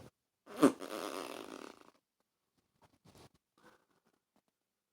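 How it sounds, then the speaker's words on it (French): Cartoonish fart sound effect in a read-aloud children's story about a farting princess, one loud juicy blast followed by a sputtering tail, then a few faint short noises in near silence. "la princesse Pétunia péta à nouveau. Oh, gros pet!"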